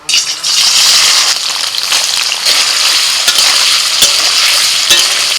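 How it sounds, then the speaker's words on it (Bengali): Paneer cubes sizzling in white oil in a wok: a continuous loud frying crackle with occasional sharp clicks and scrapes of stirring, close by and without speech. "আবারও কড়াইতে সাদা তেল দিয়ে দিয়েছি এবার পনিরগুলো ভেজে নিচ্ছি"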